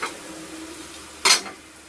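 A quiet kitchen hum, then a single short scrape of a spoon stirring millet soup in a pot, close by.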